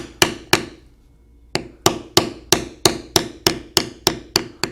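A leather tooling tool is struck with a mallet while carving moose leather: about fourteen sharp, close taps, two at the start, a short pause, then a steady, evenly spaced series.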